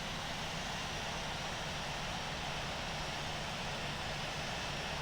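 A Boeing 777-300ER being pushed back in the flight simulator game Infinite Flight, a steady broadband engine roar and hiss that holds constant and loud throughout, with no speech over it.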